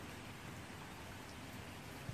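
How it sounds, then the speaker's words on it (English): Steady light rain sprinkling outside a window, a continuous soft hiss of drops with one brief low thump near the end and no voices. "No, it is raining right now."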